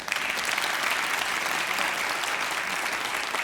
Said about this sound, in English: Let's give the guy a round of applause.